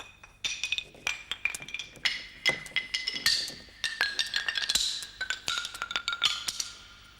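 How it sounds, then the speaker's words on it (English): Sticks cut to slightly different thicknesses and lengths are struck as a tuned percussion instrument, giving a quick run of bright wooden clinks and tonal taps, close and fairly loud, with no talking. "I'm going to play these sorts of chopsticks."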